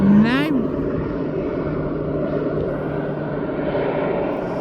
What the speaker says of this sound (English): I'm coming onto this Beechcraft. He's coming in now.